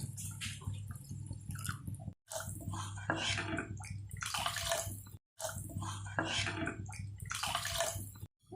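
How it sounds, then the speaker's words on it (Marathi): Two cups of water poured into a pot of tomato soup mixture, a close, steady gush of pouring water in three bursts separated by short gaps, no talk. "यात आपण आता 2 कप पाणी टाकून घेऊ."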